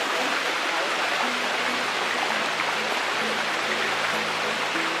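Flowing water at the Sticky Waterfall near Chiang Mai, Thailand: a steady, loud rushing hiss of water over rock, continuous and close, with faint low tones beneath.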